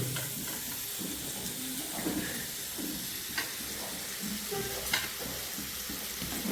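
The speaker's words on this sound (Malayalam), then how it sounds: "മത്സ്യം ഫ്രൈ ആക്കുന്നുണ്ട്" Farmed fish fries in a pan with a steady, moderately loud sizzle, broken by a few soft stirring knocks.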